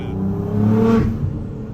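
A Nissan GTR engine revs up with a loud, rumbling exhaust, rising in pitch as it accelerates and then easing off, heard from inside the vehicle.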